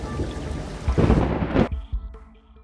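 Heavy rain with a loud, close thunder crash building and peaking midway, then trailing into lighter patter and low rumbles on a stormy night.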